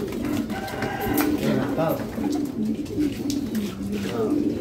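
Ornamental pigeons coo in repeated low, soft phrases at a moderate distance, with a person speaking briefly over them and faint background noise throughout.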